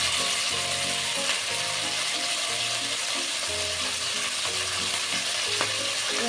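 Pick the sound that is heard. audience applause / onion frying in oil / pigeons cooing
onion frying in oil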